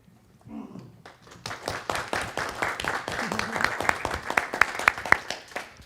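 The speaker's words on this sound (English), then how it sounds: "Another round of applause for the presenters." A small audience claps for presenters after a talk, starting sparse and building into steady, close applause with some individual sharp claps standing out.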